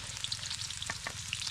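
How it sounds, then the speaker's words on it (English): Onion, garlic and ginger sautéing in a pan, a dense continuous sizzle with occasional sharp crackles and a couple of utensil scrapes, close and steady. "Let's put first the onion, garlic, and the ginger. Let's saute it."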